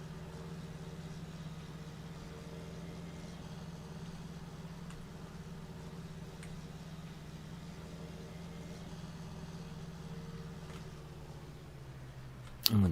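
A tractor engine idles steadily in the Farming Simulator 19 video game, a constant low hum that runs unchanged throughout and ends with a brief sharp knock.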